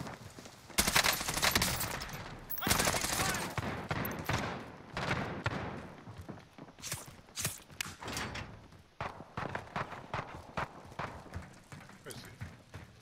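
Bursts of gunfire in the Warzone video game, several sharp volleys and scattered shots loud up front and then thinning out, with players talking over the action throughout.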